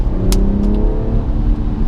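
A BMW 340i engine revs hard under acceleration, a close, loud, steady drone rising in pitch, with a short hiss near the start and no talk over it.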